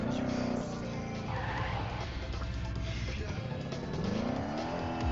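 Car drifting in a video game, tyres squealing and skidding over a revving engine, the pitch sliding down and climbing again through a continuous, fairly loud run.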